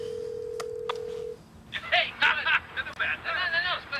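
Telephone dialing a call: two short keypad tones, then a steady dial tone that cuts off, followed by a voice speaking over the line.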